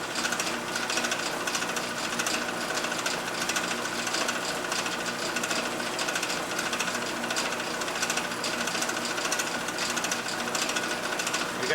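A metal lathe takes a cut on a gear part for a protractor fine-adjustment mechanism, giving a dense, steady mechanical whir and rattle that runs without a break and with no talking.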